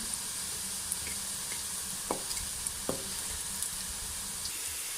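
Chana dal kofta frying in hot oil in a kadhai, giving a soft, steady sizzle with a few sharp clicks of a spoon, close by and fairly quiet, with no talking.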